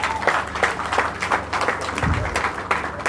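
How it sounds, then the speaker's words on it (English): An audience at an event honouring a governor breaks into applause, with dense, continuous clapping that fills the room, close and lively, with a few voices mixed in. "deserves an applause"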